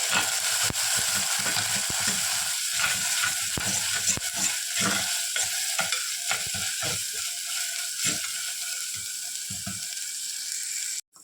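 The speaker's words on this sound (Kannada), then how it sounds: "ಫ್ರೈ ಆಗಿ ಬರುವಾಗ ಬೆಳ್ಳುಳ್ಳಿ ಪೇಸ್ಟು ಹಾಕೋದು" Ginger garlic paste frying in a pan for a Mangalorean prawn and potato curry, a steady hiss with frequent clicking spatula scrapes and stirs, fairly close, with no voices.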